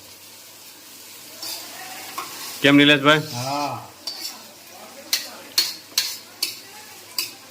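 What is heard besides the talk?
capsicum, cabbage and carrot stir-fried in cumin tempering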